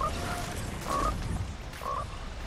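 A frog in Fortnite croaks three times at roughly one-second intervals, short throaty calls over a steady background rumble of game ambience.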